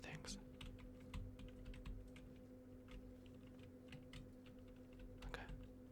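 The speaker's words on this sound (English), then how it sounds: "I'm just gonna quickly type some things." Quick, light keystrokes on a computer keyboard patter in a continuous run of soft clicks, close and fairly quiet over a low steady hum, with no talking.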